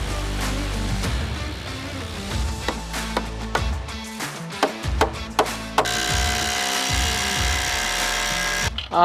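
A drill drives a screw into the wood of an outdoor pergola in short bursts, with sharp clicks and knocks between runs, ending in a sustained high whine, close and fairly loud.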